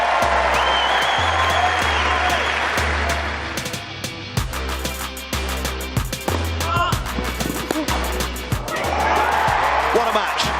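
A crowd on Wimbledon's Court Two gives a standing ovation with dense, sustained clapping and cheering. Footsteps and thuds sound close by in the middle, and the applause swells again toward the end.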